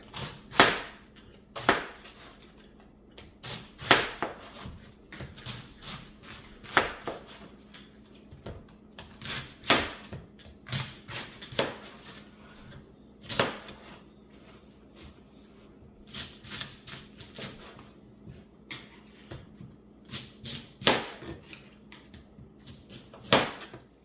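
Knife chopping cabbage into small pieces for fermenting, a run of sharp, irregular knocks of the blade hitting a cutting board, close and moderately loud, with no talking.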